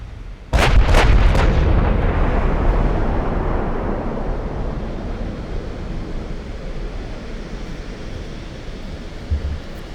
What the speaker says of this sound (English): I'm going to keep firing at that battleship.